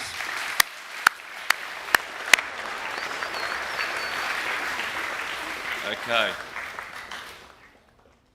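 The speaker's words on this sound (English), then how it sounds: "Can we give all the award winners a round of applause, please?" At a school academic awards assembly at St Brendan's College, a few sharp single claps lead into broad audience applause for Year 8 and 9 award winners, which swells then fades out, with a brief voice near the end.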